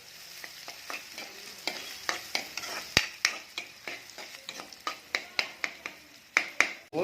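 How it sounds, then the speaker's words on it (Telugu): Onion pieces frying in a pan for goat liver fry, a low steady sizzle under a quick run of sharp spoon scrapes and taps against the pan, many in a row, close and unaccompanied by talk. "ఉల్లిపాయ ముక్కలు, ఇవి బాగా బ్రౌన్ కలర్ వచ్చేంత వరకు వేపుకోవాలండి"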